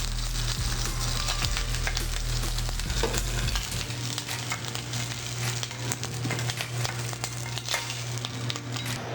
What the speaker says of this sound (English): as you sear the cakes, you're looking just to get a little bit of browning